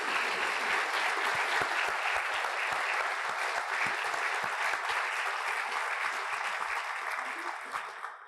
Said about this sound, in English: please give a big round of applause to these amazing people